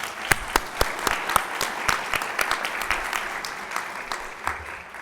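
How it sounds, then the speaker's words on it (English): Sparse applause from a modest audience at an awards presentation, individual claps standing out as distinct sharp hits that thin out and fade over a few seconds. "could we give her a round of applause?"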